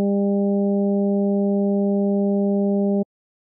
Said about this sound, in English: Here's a rough estimate of a sound, just a real quick one that I've made using operator in fixed frequency mode.